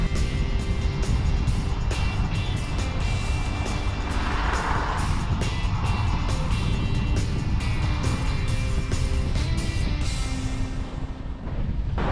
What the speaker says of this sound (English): I can hear cars